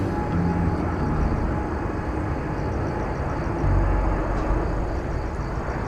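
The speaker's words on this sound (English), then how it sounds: "So Korean Air Dreamliner, I believe that is, coming in from, I'll have to double check my sources." A Korean Air Dreamliner landing at Incheon airport in Seoul gives off a steady, broad jet roar that holds at a constant level throughout, with a slight low rumble swelling near the end.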